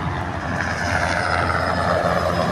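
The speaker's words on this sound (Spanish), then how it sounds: "tenemos un helicóptero ahora que está haciendo la supervisión" A helicopter flying a supervision patrol overhead gives a loud, steady engine drone and rotor rumble that holds constant throughout, with no speech.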